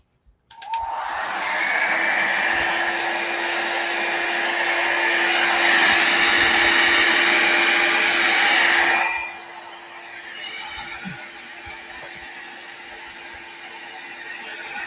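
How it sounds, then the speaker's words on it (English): A heat gun running close by while drying a collage page in a journal, giving a loud, steady whooshing blow with a faint whine that drops to a lower, quieter setting partway through. "let me turn the heat gun on real quick."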